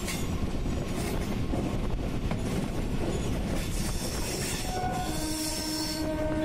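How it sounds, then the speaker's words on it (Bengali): Passenger train rolling toward Masagram junction in West Bengal, heard from on board as a steady, loud rumble of wheels and carriages with faint squealing from the rails and no voices. "আমরা ট্রেনটি মোশাগ্রাম জংশনের দিকে যাচ্ছে এবং মোশাগ্রাম জংশনে কিছুক্ষণের মধ্যেই ঢুকবে।"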